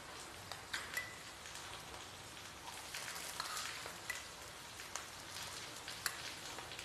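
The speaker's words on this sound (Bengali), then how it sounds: "একটুখানি ভেজে নেব।" Fried potatoes and grated coconut sizzle in a pan while cooking an ash gourd dish, a faint, soft crackling patter with scattered small pops and occasional stirring clicks at close range.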